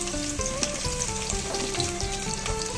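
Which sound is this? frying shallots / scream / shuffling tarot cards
frying shallots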